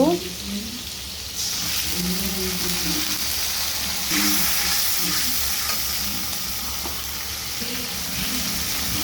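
Ginger garlic paste sizzles in a pan of curry being stirred, a loud continuous frying hiss with scraping stir sounds, close and steady throughout, with a voice faintly in the background.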